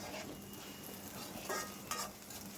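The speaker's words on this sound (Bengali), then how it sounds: "এখন এগুলো ভালোভাবে ভেজে নেব।" Chopped onions and garlic frying in oil in a wok, a continuous crackling sizzle with scraping stirs and two sharper bursts, close up and with no talking.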